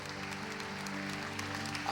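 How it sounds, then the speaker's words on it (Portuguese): Church audience applauding a Catholic priest, a steady wash of clapping throughout under a low hum of voices. "Vamos aplaudir o sacerdote."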